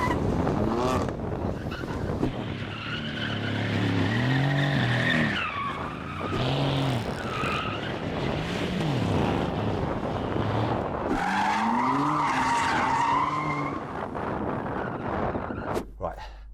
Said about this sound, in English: they've got to go and do some donuts